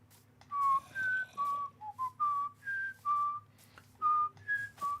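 A person whistles a melodic tune in short sustained notes with brief pauses between them, heard close and alone over a faint low background hum.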